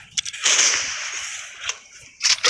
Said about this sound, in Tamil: ராக்கெட் லான்ச் வச்சுட்டு போடுறாங்க